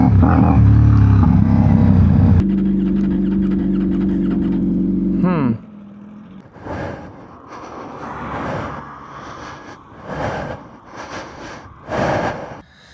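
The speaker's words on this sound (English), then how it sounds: "Something's up with my bike." A faulty motorcycle engine runs loud and rough, then cuts off abruptly; afterward only quieter rustling and intermittent bursts of noise remain.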